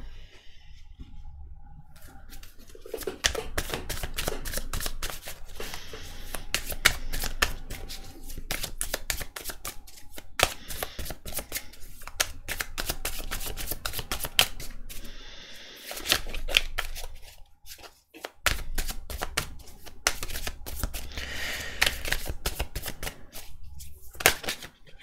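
A tarot card deck is shuffled in quick riffling bursts, a dense crackle of card edges running almost continuously with a few short pauses, close and fairly loud, with no talking.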